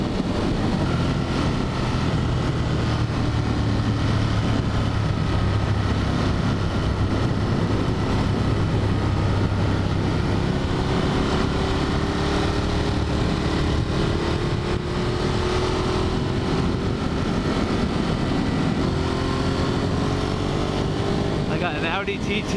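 A Ducati Monster 1200 motorcycle engine held near 8,000 RPM on a mountain road above a valley, a loud continuous droning roar with wind rush, steady and close throughout.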